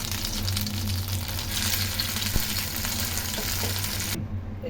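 Veg egg pieces shallow fry in oil over a low flame, giving a loud, steady sizzle close by that cuts off abruptly near the end.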